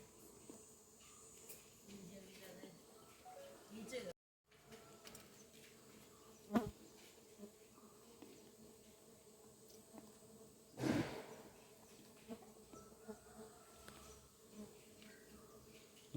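Honeybees buzzing softly around a hive as it is handled, a faint continuous hum with a few sharper nearby knocks and brief bursts of rustling.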